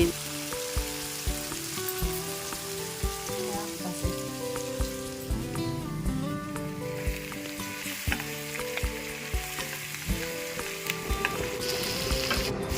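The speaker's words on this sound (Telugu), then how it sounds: "తరిగినటువంటి ఈ తోటకూరని ఆయిల్లో వేసేసుకొని" Chopped amaranth leaves frying in oil give a dense, crackling sizzle close up. A tonal background melody plays throughout.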